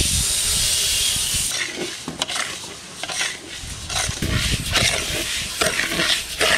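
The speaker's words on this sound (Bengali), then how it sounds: "সুন্দর করে মুগের ডাল ভাজা হয়ে গেছে" Mung dal dry-frying in a pan for a village community meal, with a steady bright hiss and crackle broken by sharp clinks and scrapes of stirring against the metal.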